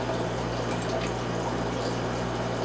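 Brine shrimp water dumped back into a container in a fish room, a steady close pour with a constant hum beneath it and no talking.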